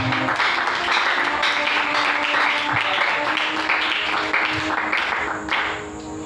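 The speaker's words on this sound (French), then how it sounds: "Est-ce que nous pouvons acclamer pour le Seigneur?" A church congregation at a French-language prayer service claps and cheers in praise, sustained dense applause with voices calling out throughout, fading slightly at the very end.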